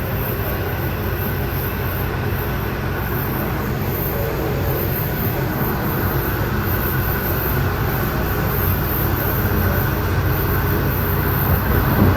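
A Swan Hill N set passenger train running toward Bendigo: a steady, loud interior rumble of wheels and carriage noise fills the whole stretch, swelling slightly near the end, with no talk.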